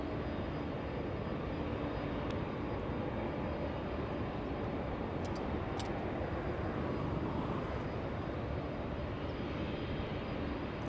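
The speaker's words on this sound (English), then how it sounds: "Delta 543 flying in from JFK International" Delta Boeing 767 airliner on approach into Los Angeles International Airport, a continuous broad engine roar heard from a distance with a few faint ticks, no voices.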